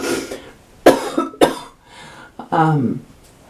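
Several close coughs in quick succession, followed by a strained, voiced throat-clearing sound near the end.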